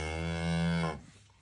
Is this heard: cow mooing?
yes